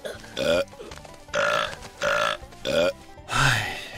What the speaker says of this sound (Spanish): después de 33 segundos de eructos